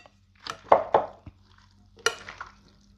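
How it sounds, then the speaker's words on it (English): A spoon stirs pepperoni through a pasta salad in a bowl, making a few soft, irregular scrapes and clinks with pauses between them. "We're going to stir this pepperoni around"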